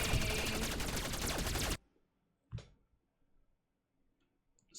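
Gunfire from an asteroid defense system in a space video game: a dense, loud burst of rapid shots lasting nearly two seconds, cutting off abruptly, followed by a single short sharp report and faint clicks in near silence.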